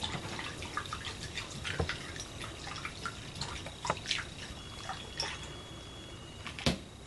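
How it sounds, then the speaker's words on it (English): Citrus vinaigrette ingredients with dry mustard, black pepper and salt whisked together in a bowl, producing faint, quick liquid clicks and light splashy taps in a loose, uneven rhythm. "Let's go whisk all together."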